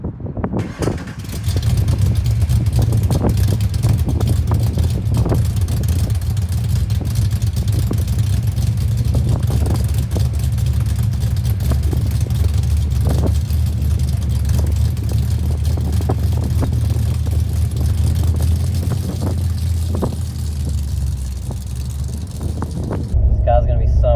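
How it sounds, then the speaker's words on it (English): A modified 1983 Ford XE Falcon drives with its exhaust dumped at the differential, giving a loud, steady low engine drone that rises and falls with throttle blips and gear changes for the whole stretch, then cuts off near the end. "It was pretty loud, the exhaust was dumped at the diff."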